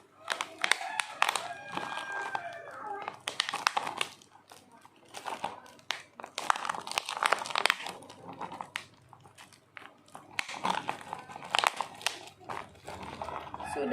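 Plastic covering crinkling as it is stretched over a plastic cup and fixed with a rubber band, giving irregular bursts of crackling and rustling with brief pauses between handling.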